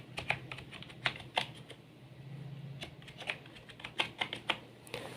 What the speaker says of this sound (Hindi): अब हम यहाँ पे कुछ टाइप करते हैं।